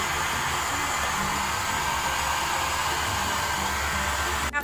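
A hair blow dryer runs steadily during a DIY hair rebond at a salon, a loud continuous broadband whoosh that holds for several seconds before cutting off abruptly at the end.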